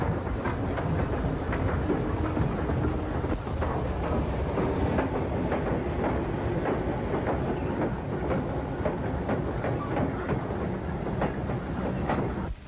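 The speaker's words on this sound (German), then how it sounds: "nächste Lokomotive ist die schwerste elektrische Lokomotive und mit ihren 6000 Pferdekräften die stärkste Lokomotive der Deutschen Reichsbahn" A heavy 6000 hp Deutsche Reichsbahn electric locomotive hauls a train of measurement cars past, with a continuous rumble and rhythmic clickety-clack of wheels over rail joints, steady and fairly close throughout.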